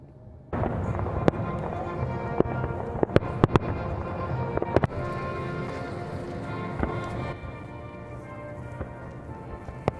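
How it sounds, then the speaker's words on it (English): Finale fireworks over the National Mall in Washington, DC burst with sharp cracks and pops over a dense, rumbling background roar, the explosions scattered irregularly and fading near the end. "The finale fireworks at 8 o'clock tonight."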